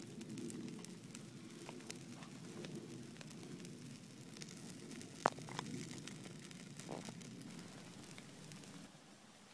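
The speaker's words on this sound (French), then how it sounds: "Là voilà, le feu est parti." Damp wood campfire at a waterside bivouac in rainy weather, burning with soft scattered crackles and occasional sharp pops over a faint steady rustle, quiet and close.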